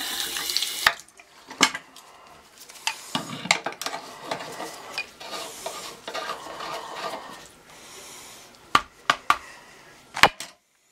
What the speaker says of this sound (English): I gotta turn the water back on.